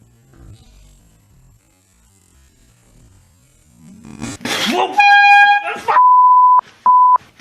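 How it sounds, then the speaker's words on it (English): After quiet rustling and a burst of noise, a loud air horn blares in short, piercing blasts, close by. "This is a air horn."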